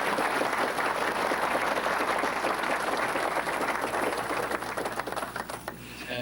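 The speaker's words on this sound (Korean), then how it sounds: "박수 부탁드리겠습니다." Audience applause at a 20th anniversary ceremony of a YMCA in Pohang, a broad steady wash of many hands clapping that thins and fades toward the end.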